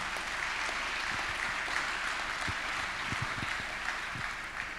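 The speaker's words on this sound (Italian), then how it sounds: "Un applauso anche per lui, grazie" Sustained applause from an audience at a Confindustria business dinner, greeting the president of Confindustria Lecco e Sondrio; dense, steady clapping with a few sharper claps standing out, lasting throughout.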